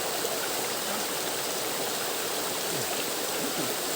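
Stream water flows steadily along an old trail marked with stone map markers, a loud continuous rushing wash with no voices.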